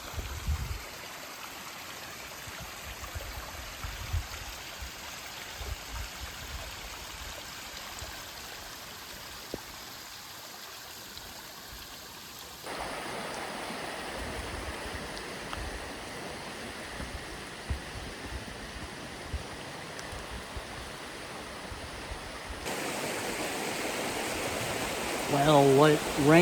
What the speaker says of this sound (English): There's the beaver dam.